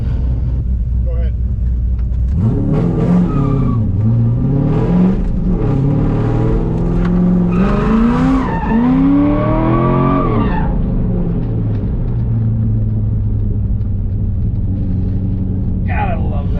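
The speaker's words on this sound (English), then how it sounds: "We are now doing a full corner drift." A C5 Corvette drifts through a full corner on a track at a Fargo, North Dakota drift event: a loud, close engine roar rises and falls with long tire squeal and skidding throughout.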